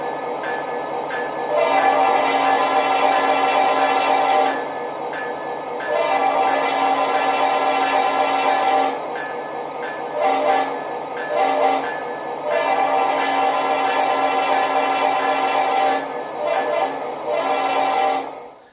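Loud, continuous diesel engine drone from a model EMD locomotive in Norfolk Southern markings, with long tonal blasts like a horn sounding in several stretches.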